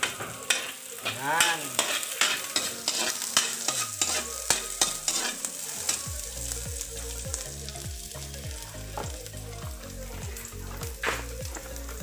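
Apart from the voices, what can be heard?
garlic and onion frying in a pan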